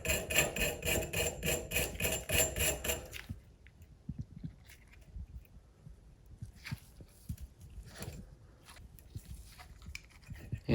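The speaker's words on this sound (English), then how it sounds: "grab a brass brush, start roughing up the Teflon tape" A brass brush scrubs rapidly at old Teflon tape on a leaking shower head's threads, first in a fast, steady run of close, loud strokes, then breaking into quieter, scattered scrapes and rasps.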